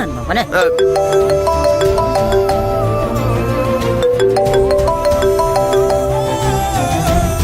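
A loud electronic ringtone melody plays continuously, tonal notes repeating in a looping pattern throughout.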